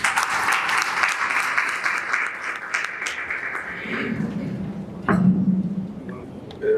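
An audience at an academic panel on Pedro Henríquez Ureña applauds in a broad, steady wash of clapping, which thins out midway as a voice starts speaking over the last scattered claps.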